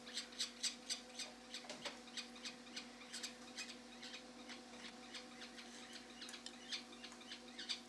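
Captive-bred peregrine falcon and gyrfalcon chicks give rapid, repeated shrill squawking calls, about two per second, fairly close and sustained over a low steady hum.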